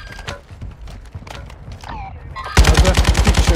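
Rapid automatic gunfire in Call of Duty Warzone 2, a loud burst of evenly spaced shots near the end, after a stretch of quieter game sounds and talking.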